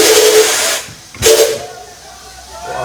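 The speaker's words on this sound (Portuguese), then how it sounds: "Aqui é o apito." A locomotive steam whistle blows loudly with a hissing, airy tone, stops briefly, then sounds again in a second shorter blast before fading into steam hiss.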